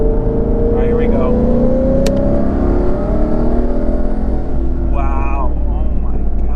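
A 1000-horsepower twin-turbo Ford Mustang GT accelerates hard from inside the cabin, a loud sustained engine roar climbing steadily in pitch through the gears, with a brief shift and a faint voice near the end.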